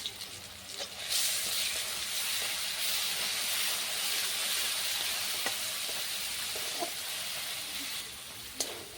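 Ginger, garlic and cashew paste sizzling in hot oil in a pan, a steady loud hiss that flares up and holds, with a few faint clinks, no talk.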